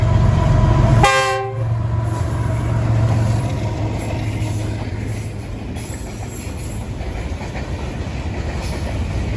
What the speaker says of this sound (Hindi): दोस्तों ये दे पियो सो तुसा रेलगाड़ी।